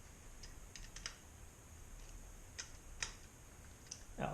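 Cylinder head nuts being loosened on a Yamaha XS1100 motorcycle engine, with sparse sharp metallic ticks and clicks of a wrench working at close range, irregularly spaced, with no talk.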